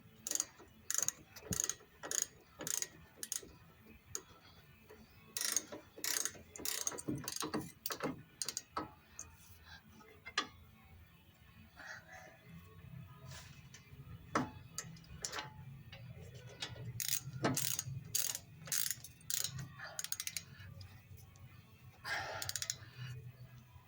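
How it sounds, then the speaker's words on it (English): A hand ratchet clicks steadily while bolts are tightened on a Rough Country lowering kit for a 2008 Chevy Silverado, with quick bursts of ticking repeating throughout, close and fairly quiet, no one talking. "you're gonna want to tighten these bolts really tight"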